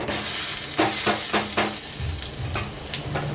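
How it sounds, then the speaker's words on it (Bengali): Chopped garlic frying in well-heated oil in a pan for momos, giving a steady sizzle with several short scraping stir strokes close by. "এর মধ্যে দিয়ে দিচ্ছি একটু রসুন কুচি।"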